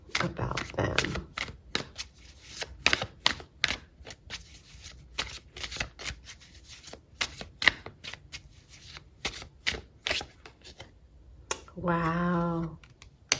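Tarot cards riffled and shuffled by hand, a long run of quick, crisp card slaps and flutters close up, followed by a short voiced sound near the end.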